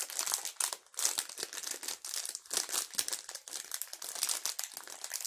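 Crinkly plastic wrapper of a packaged cake being opened, a continuous close crackling and rustling with uneven bursts of crumpling throughout, no voices.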